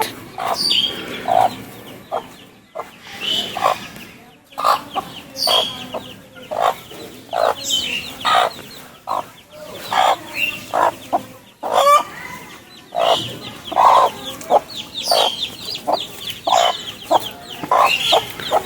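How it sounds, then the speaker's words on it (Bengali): Wild black jungle fowl cluck over and over in a Malaysian palm plantation, a busy run of short, sharp calls close by with brief pauses and an occasional louder squawk, and no voices. "দেখতে পাচ্ছেন জঙ্গলি মুরগি মুরগিগুলো মূলত কালো হয়ে থাকে"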